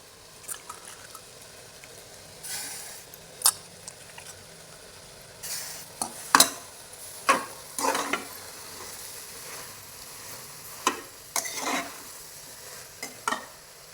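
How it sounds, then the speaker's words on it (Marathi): Village-style pulao in a pan being stirred: rice with cloves, peppercorns, green cardamom, potato, cauliflower and cabbage. A spoon scrapes and clinks against the pan in intermittent strokes over a faint, quiet sizzle. "परत हलवत राहायचं"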